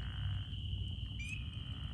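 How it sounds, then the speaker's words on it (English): Pickerel frogs call with snoring croaks from a spring night wetland in South Carolina, a low rasping chorus under a steady high insect drone, with a brief chirp rising over it. "all those snoring calls you hear behind us are more pickerel frogs calling"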